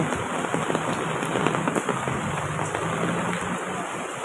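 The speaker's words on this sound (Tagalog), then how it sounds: "Pabugso-bugso ang ulan pero malakas" Steady, dense patter of heavy rain in Taiwan with scattered sharper drops and splashes, continuous throughout with no voices.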